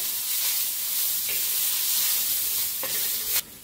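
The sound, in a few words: chilies and peanuts roasting in a pan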